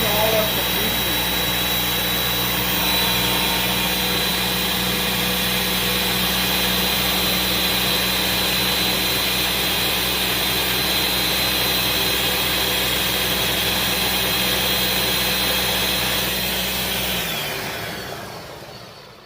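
Guajillo chilies for a red sauce being ground in a blender, a loud steady whirring roar that holds nearly constant and then cuts off near the end.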